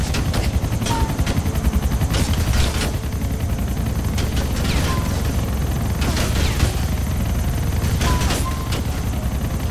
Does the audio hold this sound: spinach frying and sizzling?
no